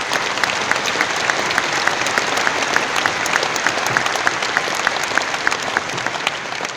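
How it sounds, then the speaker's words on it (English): A large audience at the AWS Summit 2017 keynote in London claps, filling the hall with dense, steady applause throughout and a faint, regular clicking pulse underneath. "your round of applause, if you would, for the people of Restart"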